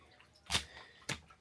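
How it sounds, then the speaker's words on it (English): Dirty water drips inside a damaged house in two distinct, faint drops about half a second apart against a quiet background. "this isn't clean water that's raining down here right now."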